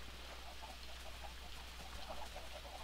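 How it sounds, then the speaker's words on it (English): Chickens clucking in a Minecraft chicken farm, a steady chorus of soft game clucks over a constant low hum, no talk. "I'm killing the entire chicken farm"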